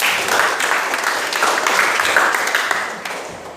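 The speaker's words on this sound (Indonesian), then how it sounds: "aplaus" A classroom of students bursts into steady, dense applause that runs without a break and fades slightly near the end, during an Indonesian civics lesson.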